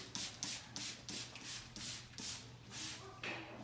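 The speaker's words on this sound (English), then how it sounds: "And make sure I spray the door as well." Cintas neutral disinfectant is sprayed onto a kennel and its door in a series of about eight short bursts, each a soft hiss of mist close by, spaced roughly half a second apart with faint handling noises between.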